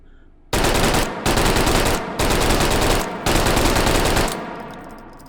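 A WW2-era firearm fired in the VR game H3VR: four long bursts of automatic fire, loud and close, separated by short gaps, with the last burst trailing off into a fading echo.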